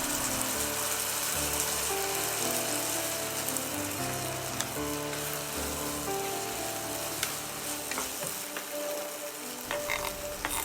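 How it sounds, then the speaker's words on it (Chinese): King oyster mushrooms and peanuts stir-fry in a wok with sauce, a dense, bubbling sizzle that runs steadily throughout with scattered crackles and stirring sounds. "放入杏鲍菇翻炒，加1把花生米， 放入调好的酱汁，"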